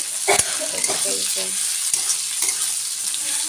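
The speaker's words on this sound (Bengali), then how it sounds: "পেঁয়াজটাকে ভাজা ভাজা" Close sizzling of onions with ginger and garlic frying in a pan, with a few scraping stirs and clinks over the steady crackle.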